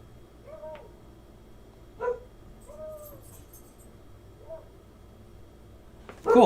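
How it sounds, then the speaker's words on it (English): A dog barks outside, a handful of short separate yelps spaced a second or two apart, faint and distant over a low steady room hum. "I had the dog barking outside."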